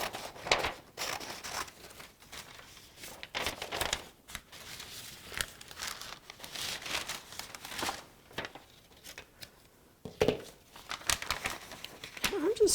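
Scissors cutting a piece of Tyvek sheet, producing crisp, intermittent crinkling snips and rustles, fairly quiet and close, in short bursts with brief gaps.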